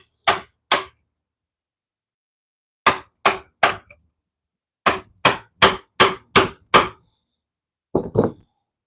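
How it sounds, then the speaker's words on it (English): Mallet blows drive a small chisel into a gum tree log in sharp, close knocks, grouped as two strikes, then three, then six in steady rhythm, and a final pair, with silence between the groups. "in this gum tree log, I'm going to see if I can get away with a little smaller chisel"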